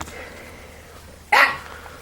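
A single short, sharp dog bark rings out nearby, loud and abrupt against a quiet outdoor background, with no talking.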